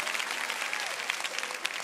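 Brief scattered clapping and murmuring from a conference audience in a large hall, a moderate burst of applause with faint crowd noise.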